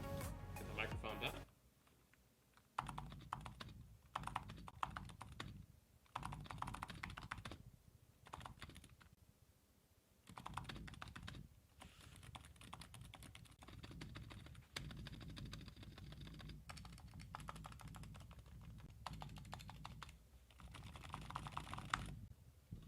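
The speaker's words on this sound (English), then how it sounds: "I'm getting more of a thock instead of a clack on this board." Typing on a Razer Huntsman mechanical keyboard fitted with foam gives deep, muted thocky keystrokes in rapid bursts with short pauses, close and fairly quiet.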